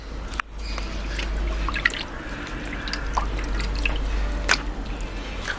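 Water dripping and trickling from raw chicken just washed several times in a kitchen, a scatter of small, close drips and splashes over a steady low hum.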